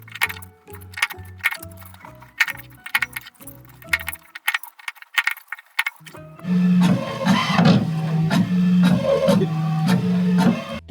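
A desktop printer runs nearby, first with a rhythmic series of clicking, stepping pulses, then a louder steady mechanical whir with repeated humming tones as the paper feeds, with no one speaking.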